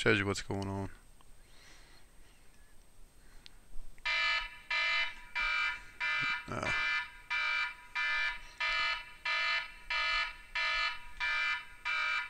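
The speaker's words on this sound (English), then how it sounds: "That's my phone going off." A mobile phone alarm goes off indoors, a loud repeating electronic beeping in steady bursts of about half a second, each followed by a short gap, with someone speaking briefly beforehand.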